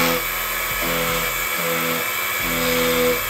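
A Defu 368A manual key cutting machine grinds a Honda key blade with a steady high-pitched whine, close and continuous, shifting slightly in pitch as the cutter works the metal.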